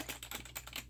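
A dog pawing at a cordless computer keyboard, producing a quick irregular run of close, sharp key clacks over a steady low hum, with no talking.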